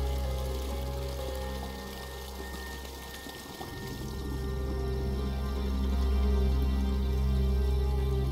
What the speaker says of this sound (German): Die Pumpe ist aus und das Wasser ist so gut wie abgelaufen.